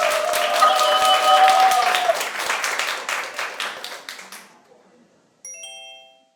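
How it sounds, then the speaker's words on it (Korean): Audience applause at a festival presentation swells briefly alongside a sustained musical tone, then thins into scattered claps that fade out, followed by a short bright chime-like melody at the end. "박수와 함께 맞춰주시면."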